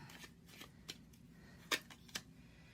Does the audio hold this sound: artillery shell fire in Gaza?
no